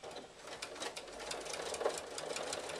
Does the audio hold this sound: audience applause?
no